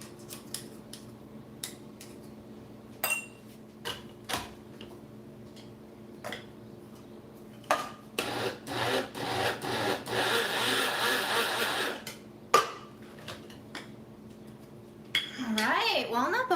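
Walnuts being ground into walnut butter in a grinder, a steady gritty whirring that builds for several seconds, surrounded by short clicks and knocks.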